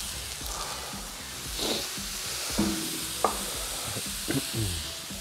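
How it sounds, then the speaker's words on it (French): Raclette cheese sizzling and frying in cast-iron pans over a wood-fired brazier, a steady close hiss with a few soft scrapes and clinks, no voices. "Je vais venir donc rajouter mon fromage à raclette directement sur mes poêlons en fonte."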